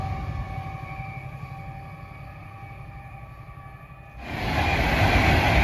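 A train at Bletchley station gives a steady rumble with a tonal hum, then grows suddenly louder as it passes close by near the end.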